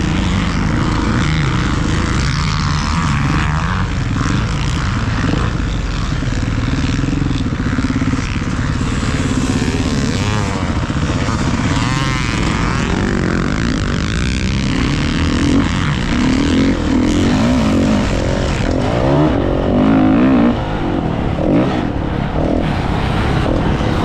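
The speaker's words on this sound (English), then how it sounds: "letting me try your KX450" A Kawasaki KX450 dirt bike with A-Kit suspension roars continuously while being ridden, a loud, dense engine drone with wind buffeting that stays steady throughout, with no clear voices.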